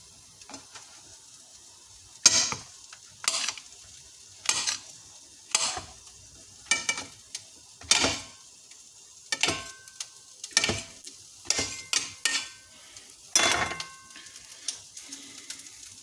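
Mushrooms fry in a pan under a faint sizzle while a utensil stirs them in repeated scraping strokes, irregular bursts spaced a second or so apart, close and alone without speech.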